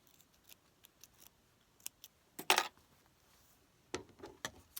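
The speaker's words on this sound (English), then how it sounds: "I'm going to trim away excess fabric in the seam allowances." Scissors snip away excess fabric from quilt seam allowances in a crumb-pieced charity quilt, giving sparse, sharp, close snips with quiet pauses between and one louder cluster of cuts.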